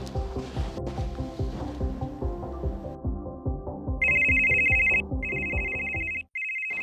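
Telephone ringing with repeated electronic trills in bursts, loud and near, separated by short gaps and cut off at the end, over a rhythmic plucked music track.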